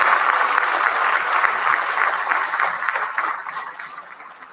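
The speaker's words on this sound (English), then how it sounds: "let us give them a loud round of applause" A round of audience applause for students at the announcement of the 2025 NGSA results, a dense, steady clatter of clapping that holds firm, then tapers off over the last second or so.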